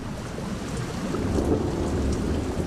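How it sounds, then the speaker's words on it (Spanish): Thunderstorm with heavy rain pouring onto rocky ground while deep thunder rumbles steadily underneath, a dense, continuous wash of noise with no speech. "Mientras las tormentas retumbaban en el cielo, la lluvia comenzó a caer en la rocosa superficie."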